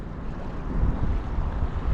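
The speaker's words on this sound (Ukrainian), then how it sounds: "Такий сильний боковий вітер" Steady, strong crosswind roars and buffets the microphone with low rumbling gusts, no voices, while fishing for pike in February.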